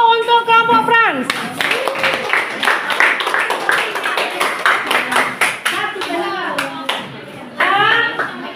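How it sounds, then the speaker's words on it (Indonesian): A group of children gives a burst of rapid handclapping after a voice speaks, with irregular close claps that taper off before speech returns and then rise again briefly. "kasih aplaus dulu untuk kelompok Frans"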